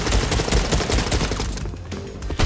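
Rapid gunfire in the video game Fortnite sounds as dense, loud bursts of shots, with a brief lull before a few more shots near the end.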